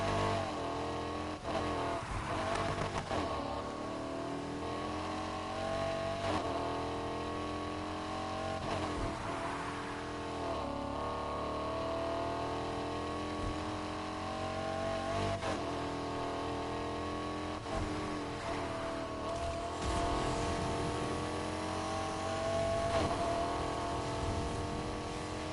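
A big, heavy performance sedan in the racing game Need for Speed Heat, its engine droning and revving steadily throughout with shifting pitch, loud and continuous with no talk over it.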